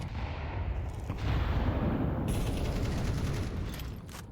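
Grenade blasts and gunfire in a Counter-Strike match, a dense, continuous roar of rumbling detonations and crackling shots that swells after the first second and stays loud, with no voices over it.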